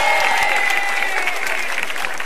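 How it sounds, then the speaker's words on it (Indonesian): A stand-up comedy battle audience claps loudly in a short, dense burst of applause, with a few sustained tonal sounds running underneath. "Tepuk tangan dong"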